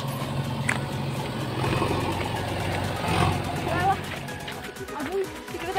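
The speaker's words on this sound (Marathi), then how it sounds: "या रोडचं कन्स्ट्रक्शन आमच्या दादानं घेतलेलं आहे आणि इथं काम सुरू आहे जेसीपीनं।" A JCB excavator works on a village road construction site. Its engine rumbles continuously with heavier surges and mechanical clanks, while voices talk over it.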